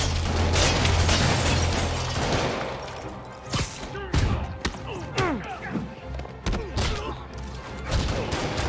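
Criminals open fire in Marvel's Spider-Man Remastered, with a rumbling stretch of game noise giving way to a series of sharp, loud shots and impacts spaced irregularly through the second half.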